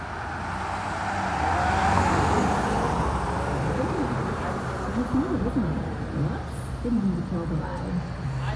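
Night traffic on the I-37 freeway in San Antonio, a broad steady roadway rumble with a vehicle swelling past early on, while someone talks close by through most of it.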